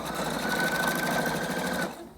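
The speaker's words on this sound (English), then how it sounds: "Then we're going to sew from one edge to the other with a good back stitch on each end." A sewing machine stitching a fabric face mask seam, a close, steady rapid whir of the needle running for about two seconds before stopping.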